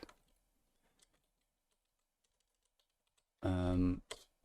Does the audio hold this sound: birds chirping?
no